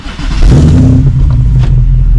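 A car with a Coyote V8 swap, Gen 3 10R80 transmission and 2.5-inch MagnaFlow exhaust pulls away, its engine swelling to a loud, deep, throaty rumble up close with no talking.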